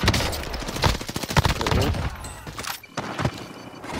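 Rapid bursts of Type 100 submachine gun fire in Call of Duty Warzone crackle loudly and close, a dense rattling volley for about two seconds followed by a few more scattered shots.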